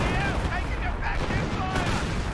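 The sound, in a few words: artillery fire in Company of Heroes video game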